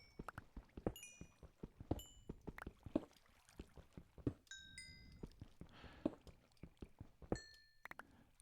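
Little chiming dings from collecting experience orbs in Minecraft, several bright pings scattered over a background of soft block-breaking thuds and footsteps, no talking.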